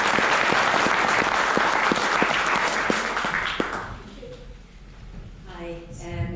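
Applause from an evening safety talk audience at a branch meeting fills the room with dense, steady clapping, then fades out, and a speaker's voice begins at the end.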